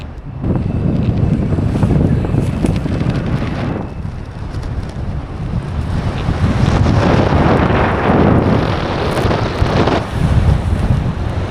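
Strong wind roars steadily across the microphone during a paragliding cross-country flight, a loud, continuous rushing buffet that swells and eases without pause.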